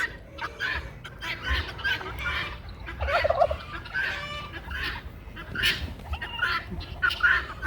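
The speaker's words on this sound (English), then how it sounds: "The guineas are getting all agitated." Agitated guinea fowl call nearby in harsh, rapid, chattering bursts that overlap and repeat throughout, with no talking.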